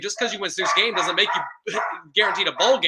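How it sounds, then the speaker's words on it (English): A pet dog barks in short, repeated bursts in the background while someone talks steadily over it. "So again, I apologize for my dog barking."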